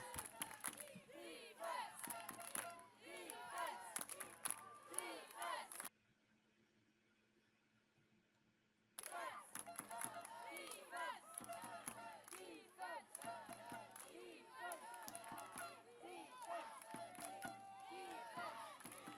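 Home supporters at a women's under-17 football match between Belgium and Germany cheer and chant in a large outdoor crowd, loud and continuous, broken by a short near-silent gap before the noise resumes.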